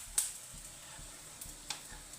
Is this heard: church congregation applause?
no